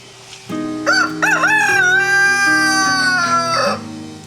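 A rooster crows loudly and close in a chicken coop, one long drawn-out call with other chickens clucking underneath.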